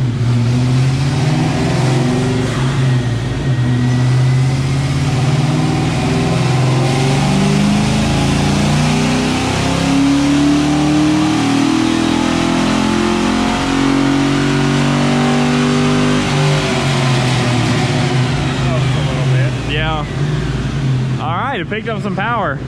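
A gray Mustang fitted with an electric turbo accelerates at full throttle on a dyno, its engine roaring loudly and rising in pitch for a long sustained pull before cutting off, with brief voices near the end.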